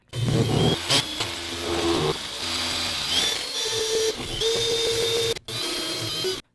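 Reed internal pipe cutter working inside a pipe, a close, loud grinding and whirring with shifting pitch, briefly cutting out near the end, while someone speaks over it.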